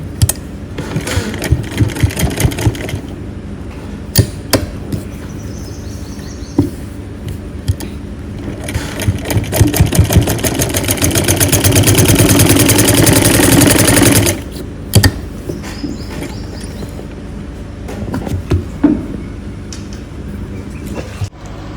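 A sewing machine stitches a round-hem kameez shirt in loud, close bursts, including one sustained whirring run and shorter stop-start runs, separated by clicks and handling noises.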